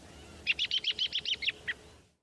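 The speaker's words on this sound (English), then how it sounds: "This is a clip of an American robin making a call." An American robin gives a call of about nine quick, bright chirps in a steady rhythm, close and clear over a quiet background, ending with a last slightly separated note.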